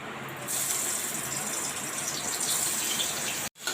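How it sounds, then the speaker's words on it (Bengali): Prawns rubbed with turmeric and salt frying in hot oil in a pan, a steady loud hiss and crackle that swells after a moment and runs on continuously before cutting off abruptly. "চিংড়ি মাছগুলো এইভাবে আপনারা ভেজে নেবেন"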